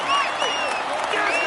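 Crowd applause for a Tour de France rider wearing the white jersey, dense steady clapping mixed with high cheers and whistles for the full stretch.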